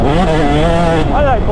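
Two-stroke motorcycle engine giving a brief throttle blip, a loud close buzzing rev that rises and settles within about a second and a half, with someone talking over it.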